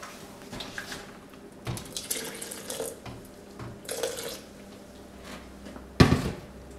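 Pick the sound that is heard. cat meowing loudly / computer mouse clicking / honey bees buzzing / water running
water running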